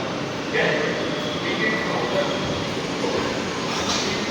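Metro train rumbling steadily at an elevated station beneath City Sky Mall in Borivali, Mumbai, a continuous loud roar with faint squeals, no talk heard.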